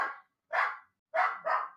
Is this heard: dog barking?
yes